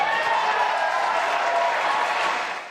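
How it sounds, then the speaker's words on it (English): A crowd cheers and applauds at a SpaceX rocket launch carrying an all-civilian crew, a sustained wash of clapping and shouting that holds steady and then fades slightly at the end. "Crowds cheered as the shuttle made its way higher and higher in the sky."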